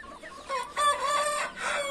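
A white rooster clucks and calls in a run of rising, throaty vocalizations, close and fairly loud, with no talking.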